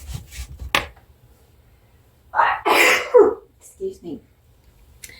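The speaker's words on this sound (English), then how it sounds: "Oh, I'm about to sneeze." A single loud, close sneeze bursts out after a few seconds in a kitchen while snow cream is being mixed, preceded by faint sharp breaths and followed by a brief sniffle and soft voice.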